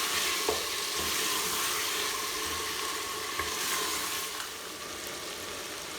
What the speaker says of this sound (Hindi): अब इसके बीच में मैं टमाटर ऐड कर दूँगी और इसे अच्छी तरह से मैं भून लूँगी।